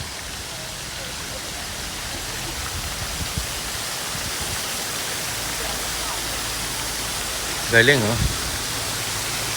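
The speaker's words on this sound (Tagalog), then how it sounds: "Ito nang gagaling yung tubig." A stream flows steadily in a continuous broadband rush, near and even throughout, with brief exclamations from a person toward the end.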